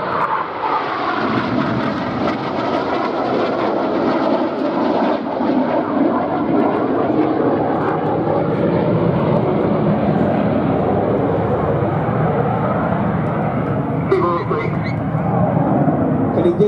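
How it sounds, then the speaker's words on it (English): The Red Arrows jet display team performs a roll at an air show with red smoke on. A loud, continuous jet roar dominates throughout while an announcer commentates over it. "Getting dizzy with the red smoke on is red 4, Flight Lieutenant Stu Campbell"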